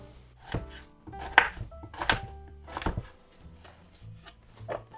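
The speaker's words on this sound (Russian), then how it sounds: "Айву буду нарезать дольками, дольки складывать в одну кастрюльку" A knife cuts raw quince into wedges in a series of irregular thuds on a board, close and fairly quiet, with no talking.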